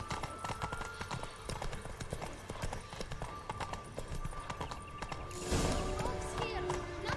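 Rapid clip-clop of Roach the horse galloping in The Witcher 3, steady hoofbeats close by, with a louder scuffling burst near the end; faint speech is present beneath.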